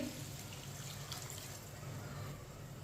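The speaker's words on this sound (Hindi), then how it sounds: "1 गिलास पानी डालेंगे।" A glass of water poured into a hot pan of roasting vermicelli, giving a soft continuous splashing and sizzling wash, faint and steady throughout with no talking.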